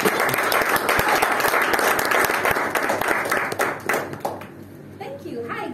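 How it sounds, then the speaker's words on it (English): An audience at a Toastmasters club meeting applauds with dense, steady clapping close by. The clapping thins out toward the end as a voice begins speaking. "Everyone give a hand of applause."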